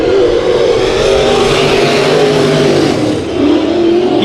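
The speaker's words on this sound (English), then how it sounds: "Jason Nation, that 83 car, good-looking machine, getting ready to take the green." Race cars roar through a heat race at Bakersfield Speedway, engines revving loud and continuous as they accelerate, with pitch rising and falling as cars pass; no one speaks.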